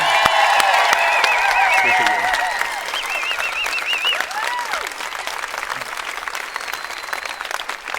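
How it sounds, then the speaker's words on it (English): Sustained audience applause, dense clapping from a large crowd, with some cheers and voices rising over it at the start before it settles into steady clapping. "Can we give Ozma a huge round of applause for having vision?"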